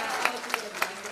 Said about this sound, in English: applause to Hispanic Traditional.